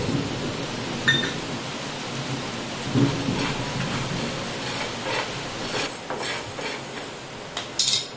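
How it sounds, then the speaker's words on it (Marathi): Rice grains dry-roasting and being stirred in a hot pan for a ground masala, a steady close rattling, rain-like rustle with occasional louder scrapes and no talking. "आता काढून घेऊया तांदूळ भाजून घेऊया"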